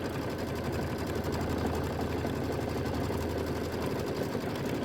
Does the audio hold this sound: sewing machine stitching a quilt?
yes